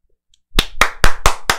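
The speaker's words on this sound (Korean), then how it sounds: "여러분을 위해서 박수 한번 치면서" Five sharp hand claps in a steady rhythm, close and loud, following a brief silence.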